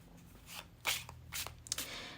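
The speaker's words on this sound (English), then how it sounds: "Okay, so let's begin the shuffling." Oracle cards are shuffled by hand in a quiet room, giving soft papery riffles and brushing bursts in several short, faint bursts.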